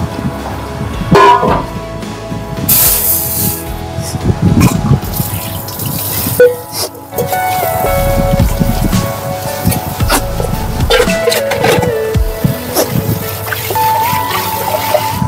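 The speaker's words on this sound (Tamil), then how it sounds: "நான் போய் வேற ஏதாவது வாஷ் பண்ணி எடுத்துக்கலாம்." Kitchen tap running water while vessels and items are washed in a sink, with a steady flow, dripping and clinking throughout and brief voices now and then.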